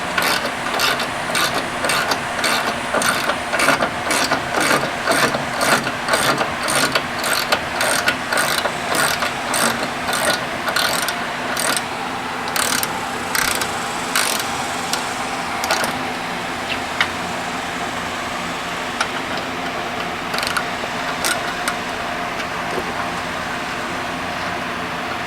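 A ratchet wrench loosening old bolts on a sandrail, a loud, close run of rapid, even clicks for about fifteen seconds that then slows and thins into scattered ticks over a steady mechanical hum.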